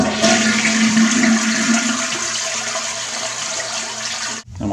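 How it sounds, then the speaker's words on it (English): A toilet is flushed to empty its tank, a loud continuous rush of water lasting several seconds before cutting off abruptly into a brief gurgle. "I'll give it a good flush to get the water out of the tank."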